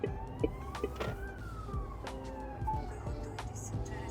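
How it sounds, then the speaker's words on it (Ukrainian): A wailing ambulance siren rises and falls over steady road and traffic noise in Sweden, sounding moderately distant as it passes. "Швидка по бордюрам літає."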